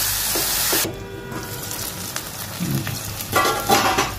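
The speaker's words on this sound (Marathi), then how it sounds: "आपण टाकून घेऊया टोमॅटो आणि त्यालाही परतून घेऊया" Onion and tomato sautéing in a pan for broccoli masala, a loud sizzle that drops after a splash of ingredients goes in, followed by hissing and a few stirring scrapes.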